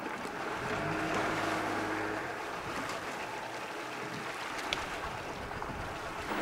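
A fishing boat with engine trouble is towed by a barge back to a larger ship off the Marquesas Islands, heard as a steady, fairly quiet drone of motor and rushing water with wind noise and no talk.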